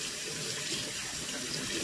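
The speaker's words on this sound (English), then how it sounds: "Now, time to rinse them off." Hands are rinsed under a running kitchen tap, a steady close hiss and splash of water into a sink, continuous with no breaks.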